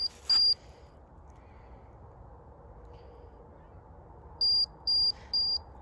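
Faint background hiss is broken by a single short electronic beep from a Marco Polo pet tracker, then later three quick high-pitched beeps in a row.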